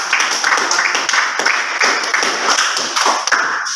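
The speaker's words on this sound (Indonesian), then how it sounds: "Tepuk tangan kelompok 5." Classmates in a teacher-training class give a round of applause for a discussion group, a short burst of clapping mixed with tapping and thumps and a bright ringing tone running underneath.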